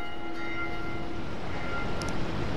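A deep bell tolling in Dark Souls II Scholar of the First Sin, sustained ringing tones that hum and linger over a low rumbling ambience.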